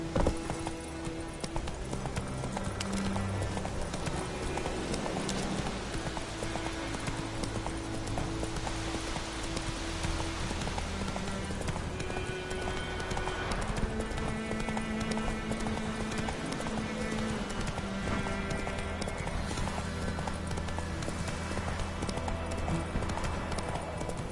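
Roach the horse galloping in The Witcher 3: rapid, continuous clip-clop of hooves throughout, layered over steady game music and ambience.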